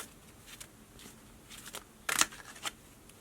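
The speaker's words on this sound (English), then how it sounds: "It's really fun to shuffle too." A holographic tarot deck is shuffled by hand, soft scattered card riffles building to one louder, brief flurry of snapping cards near the end, close and quiet.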